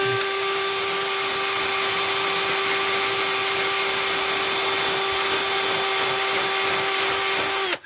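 Power drill spinning a wire brush against rusty sissy bar springs on a Raleigh Chopper Mk2 bicycle, a loud steady whine with a constant pitch that holds for several seconds, then cuts off at the end.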